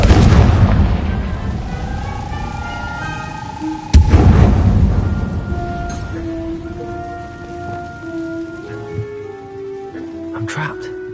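Confringo blasting-spell explosions in the video game Hogwarts Legacy, a loud boom bursting out midway over a rumbling, rain-like bed, with fainter blasts and game tones following.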